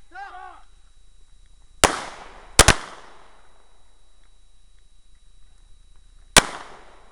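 Gunshots fired at hostage targets on an outdoor shooting range ring out as four sharp, loud cracks, two of them nearly together, each followed by a short echo, with quiet gaps between them.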